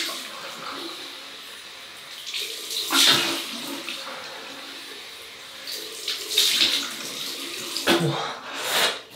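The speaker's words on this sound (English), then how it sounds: "we've rinsed with water, left the face wet" Running tap water splashes into a sink as a face is rinsed with cupped hands during a classic wet shave, with louder bursts of splashing at a few moments and steady flow in between.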